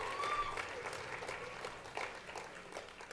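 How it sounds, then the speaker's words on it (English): A pageant audience at Miss UVU 2014 gives the stage crew a round of applause, a steady, fairly soft wash of many hands clapping at a distance. "Let's give our stage crew a round of applause."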